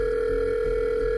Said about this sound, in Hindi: उसने फिर से अपने फोन से जॉन को फोन मिलाया